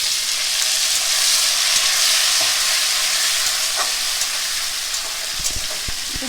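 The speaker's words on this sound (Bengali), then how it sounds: "আর দিয়ে দেবো আমি টমেটো কুচি।" Chopped tomato sautés in hot oil with asafoetida for a vegetarian chana dish, giving a loud, steady, close hiss of sizzling that runs throughout, with a few soft knocks near the end.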